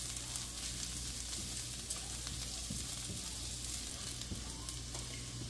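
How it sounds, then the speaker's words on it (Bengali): Garlic fries in a little oil in a pan over medium heat, with a soft, steady sizzle and light crackle throughout, fairly quiet and heard alone. "তেল দিয়ে প্রথমে রসুনটাকে ভেজে নিচ্ছি।"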